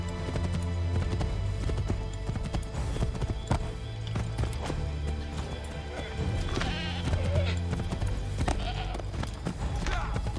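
Horses gallop in Assassin's Creed 3, a steady rush of hoofbeats running under game music and ambience, with occasional animal calls and light voices in the mix.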